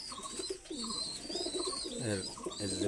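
Soft, repeated cooing of a red-eyed Teddy pigeon close by, a few low throaty phrases in a row with faint background noise.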